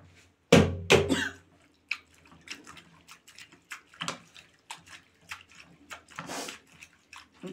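Raw potatoes are washed in water, with splashing and sloshing up close, a couple of strong swishes at first, then lighter scattered dips and trickles.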